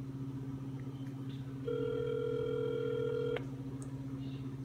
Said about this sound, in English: I'm gonna call my girlfriend right now because I know her number by heart.